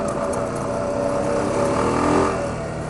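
Steady motorbike engine drone at cruising speed on a midnight run along the Mersey, with a broad road and wind roar that swells slightly toward the end, continuous and close with no talk.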